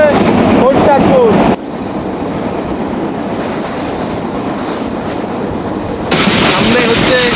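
The Mahananda local train running between Khulna and Chuadanga in Bangladesh, a loud rolling rumble and rattle of carriages on the rails, with voices talking over it at the start and again near the end.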